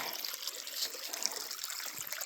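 A small, shallow stream trickles over rocks on a hillside route toward possible waterfalls, giving a faint, steady hiss and gentle dribble that stays close and even throughout.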